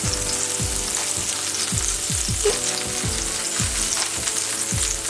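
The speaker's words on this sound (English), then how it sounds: "I'm going to place my first burger in there" Beef burger patties sizzle loudly in an oiled frying pan, a steady dense crackle with repeated low thuds as each patty is set down, close and continuous with no talk.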